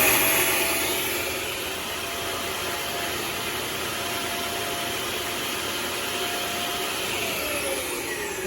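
A Sky Hook winch runs at its slower speed with a steady, loud mechanical whine and broadband hum, continuous and close throughout.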